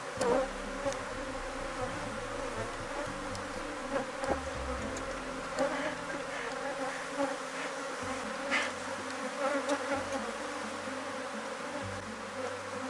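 Honeybees from a divided hive buzz in a dense, steady drone as a frame is shaken, with a loud continuous hum and brief rises in intensity.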